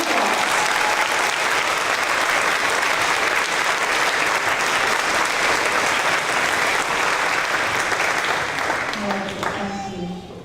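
An audience at a third-grade school awards event applauds for the winning students, a loud, dense, sustained clapping that lasts about ten seconds before tapering off, with a few voices mixed in.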